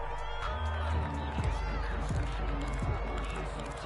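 Crowd noise from a PS4 American football game, a broad stadium roar with cheering and applause swelling under steady commentary voices.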